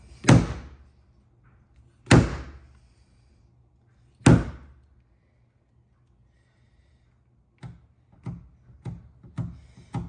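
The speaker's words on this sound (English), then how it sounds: "And you heard it pop back in there for just a second." A dent in the door panel of a bright green Hyundai, a deep dent in a crease, pops back out during paintless dent repair. Three sharp, ringing pops are spaced about two seconds apart, followed by a string of lighter taps.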